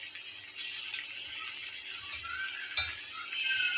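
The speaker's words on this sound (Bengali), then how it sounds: "আমি এভাবেই ভেজে নেব" Small potato crunchy balls fry in a pan of hot oil at medium flame, giving a steady, even sizzle and bubbling hiss that runs throughout, with a faint clink partway through.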